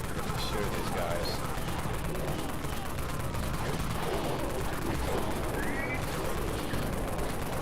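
Gunfire in the zombie shooter Dead Frontier, dense repeated shots that blend into a constant loud clatter, with a voice talking over them.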